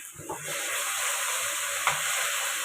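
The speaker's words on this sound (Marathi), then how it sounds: "आता ही मी भाजी फोडणीला टाकलेली आहे" Boiled taro (alu) leaves sizzle steadily in a pan of tempering as they are stirred, with soft scraping and knocks under a continuous frying hiss.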